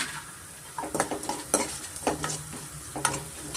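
Cooked rice with hing frying in a pan for mango chitranna, a spoon scraping and tapping in quick irregular strokes over a low sizzle, close and moderately loud.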